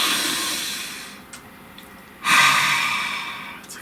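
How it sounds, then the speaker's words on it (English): A deep breath drawn in slowly and then let out in a long, airy exhale, close and breathy, heard alone with no talking. "let's take a nice deep breath"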